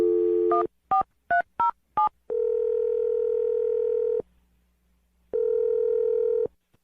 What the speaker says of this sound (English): We're gonna dial her phone number right now